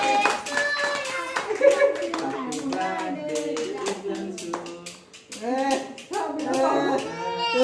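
Hands clap rhythmically at a child's birthday celebration while several voices, including children, sing along loudly and close by, with a short pause before the clapping and singing resume.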